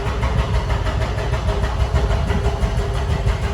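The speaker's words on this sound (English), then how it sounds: "Very nice exhaust, mates." Toyota Cressida with a 1JZ engine idling through its exhaust, a close, steady, pulsing rumble with an even beat and no talk.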